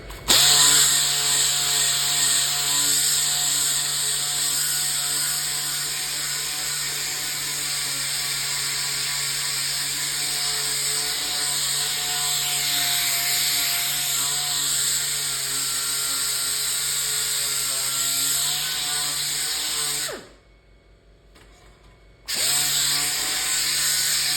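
An abrasive power tool with 80 grit sands welding slag off metal on an arcade control panel, a loud continuous high whine that holds steady, drops out briefly near the end, then resumes.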